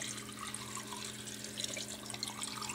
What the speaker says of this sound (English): rinsing and draining.